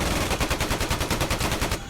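Rapid machine gun fire from AI door gunners on a CH-47 helicopter in a flight-sim game, a steady burst of about sixteen evenly spaced, loud, close shots running almost two seconds with no talk.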